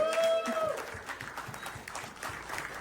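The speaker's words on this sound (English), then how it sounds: "Another huge round of applause." Applause from a conference audience rises briefly, a soft, moderately distant patter of many hands with a brief tonal voice or sound at the start.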